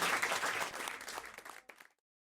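Studio audience applause on a French television talk show, a dense wash of many hands clapping that thins out and stops abruptly into silence.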